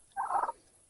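A single short turkey gobble from a tom rings out clearly at moderate distance, a brief rattling burst against quiet outdoor background.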